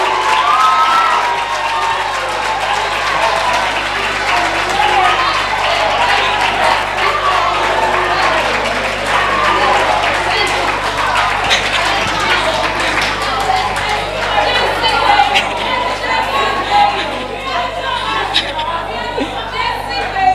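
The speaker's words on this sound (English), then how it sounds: "A round of applause for Jessie" A crowd claps and cheers steadily for a performer named Jessie, loud continuous applause with scattered shouts and children's voices rising over it.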